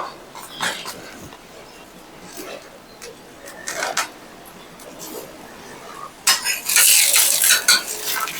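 Boli is toasted and spread on a hot griddle, with intermittent spatula scrapes and metallic taps over a faint sizzle, ending in a louder burst of clattering scraping.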